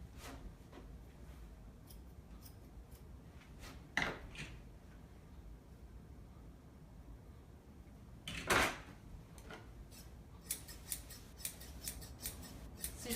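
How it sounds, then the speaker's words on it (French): Sharp scissors trimming around a poodle's paws during grooming, giving a few quiet, isolated snips, with two louder clipped bursts standing out against a soft, near-silent room. "On va aller faire notre petit contour de pattes avec des ciseaux qui coupent très bien"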